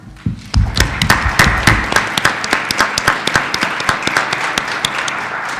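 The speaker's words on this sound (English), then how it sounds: "I would ask the community if we would give them a round of applause." A board meeting audience gives a round of applause, loud and close, with dense clapping that begins abruptly, then thins into scattered individual claps before fading out, and no one speaks.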